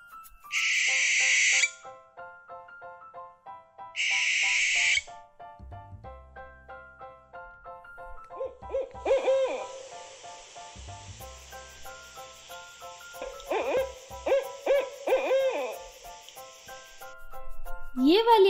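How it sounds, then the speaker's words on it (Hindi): An owl hooting sound effect from a children's guessing game plays for several seconds, fairly loud, over light background music, after two short breathy bursts. "ये वाली आवाज तो पक्का आउल की है।"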